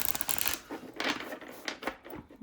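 Tarot cards being shuffled by hand, a busy run of close, crisp riffling and slapping bursts with no talking.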